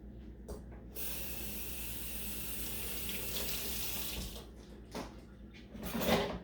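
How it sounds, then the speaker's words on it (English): Kitchen tap running steadily while Mongolian beef is being cooked, a close, even hiss of flowing water that cuts off and briefly restarts, with faint clinks at the end. "I think I'm going to add a little bit more water"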